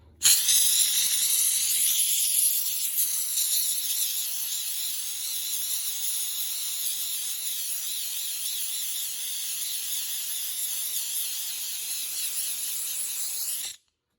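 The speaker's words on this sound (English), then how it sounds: "I'm gonna hit this thing with a little bit of steam." A steam cleaner gives a long, loud, even hiss as it sprays on the button of a Windsor Sensor vacuum during servicing, starting abruptly and cutting off cleanly after about thirteen seconds.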